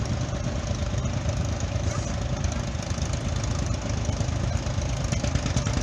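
A steady, rumbling engine of a 1940 Allis-Chalmers WF tractor idles continuously at close range, a low mechanical chugging with no voices.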